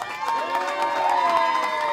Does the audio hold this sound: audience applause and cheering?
yes